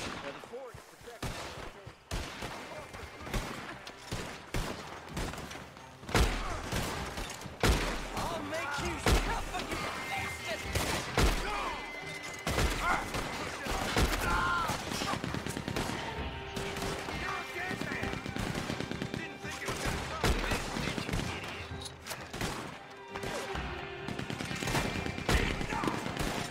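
Dense gunfire during a fort battle in Red Dead Redemption 2: sharp shots crack steadily and often overlap over 26 seconds, with voices shouting throughout.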